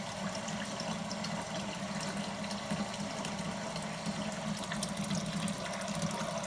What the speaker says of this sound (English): She's still draining out of that water heater.